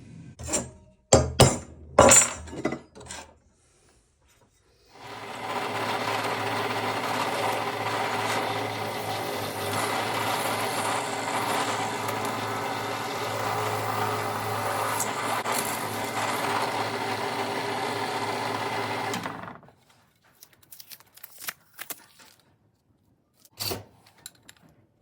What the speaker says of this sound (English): put it on the pillar drill and drill straight through it